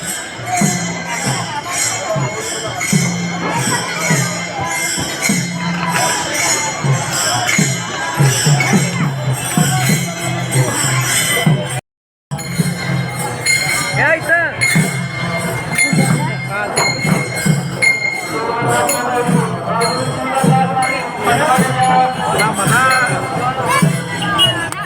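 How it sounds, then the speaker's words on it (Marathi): Large crowd at Pandharpur on the Ekadashi wari pilgrimage, a dense continuous hubbub of many voices with bells and clinks mixed in, cut by a brief silent gap partway through. "आज आहे एकादशी वारी, त्यामुळे खूप गर्दी येते बघा"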